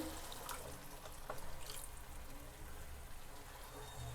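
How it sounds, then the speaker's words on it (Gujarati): Half a cup of water goes into a pan of fenugreek leaf and gathiya curry as a faint, steady watery rush that continues unbroken throughout. "અડધો કપ પાણી એડ કરીશું"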